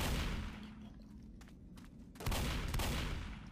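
Gunfire in the zombie shooter Left 4 Dead, with bursts of rapid automatic shots and booming blasts, loud and dense, pausing briefly midway before another heavy volley.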